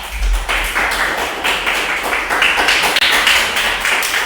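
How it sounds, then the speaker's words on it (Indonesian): A classroom of students claps together for the first group, a dense, steady burst of many hands that keeps going for several seconds with no talk over it. "kita tepuk tangan untuk kelompok 1 dulu sama-sama"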